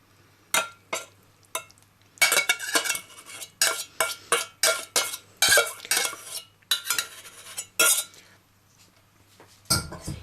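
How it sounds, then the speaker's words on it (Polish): Gingerbread dough being mixed in a bowl as egg and warm honey with melted margarine are worked in, a spoon clinking and scraping in quick repeated strokes, close and sharp, with short pauses between bursts. "Mieszam, po czym zagniatam i wyrabiam na gładkie, spójne ciasto."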